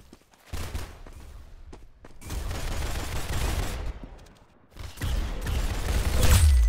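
Video game gunshots in rapid bursts separated by short gaps, with a heavy, booming blast at the end, loud and close, with no talking.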